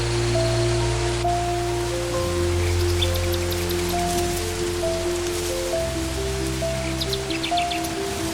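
Steady rain falls in a Panama jungle, a dense continuous hiss that lasts the whole stretch. Sustained tonal drones run under it, and faint chirps from birds or insects are scattered on top.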